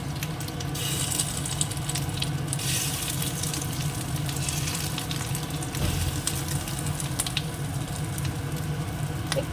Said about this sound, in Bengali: অল্প একটুখানি তেল দিয়েছি দেখুন কড়াইতে আর এই যে ডিমগুলো টুকরো করে রেখেছি ডিমগুলোকে একটু ভেজে নেবো